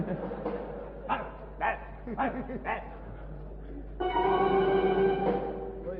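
A stage comedy performer vocally imitates a dog, giving several short barks and yips amid a noisy live setting, with speech and crowd sound around them and a steady tone rising in the last seconds.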